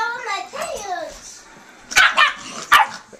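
Small dog barking in two sharp, loud bursts near the end, after a stretch of child-like chatter and voices at the start.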